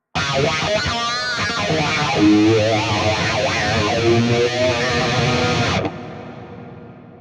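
Distorted electric guitar through an AX8 processor with sweeping wah, overdrive and a chorus-like shimmer plays loudly for several seconds, then cuts off into a short reverb tail.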